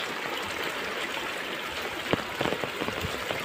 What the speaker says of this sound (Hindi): चारों तरफ बारिश की बारिश